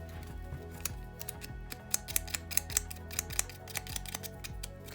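A dull craft knife rips roughly through paper while cutting a template for a handmade ceramic mug, giving a run of sharp, irregular tearing clicks and snips over a low steady background hum, close and fairly quiet.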